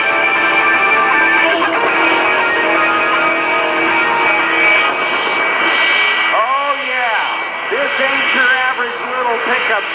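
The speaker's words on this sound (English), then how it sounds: "National Guard jet truck." A National Guard jet-engine powered truck roars with a loud, sustained whine and rumble at an Air National Guard open house and airshow, while an announcer's amplified voice talks over it.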